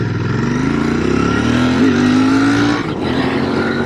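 Royal Enfield Bear 650 custom motorcycle accelerating hard on a road, its loud close engine rising in pitch through a gear, briefly dipping at a shift, then pulling again.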